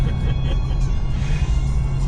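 A Tesla car driving along a road, a steady low rumble of tyres and road noise heard from inside the cabin, continuous and fairly loud.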